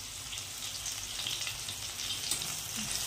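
Asafoetida frying in hot oil in a pan while making lasuni methi, a steady soft sizzle that runs evenly throughout without talk.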